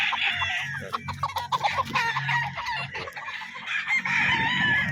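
White Kelso chickens on a farm, with roosters crowing repeatedly and hens clucking close by, a steady chorus of several birds at once.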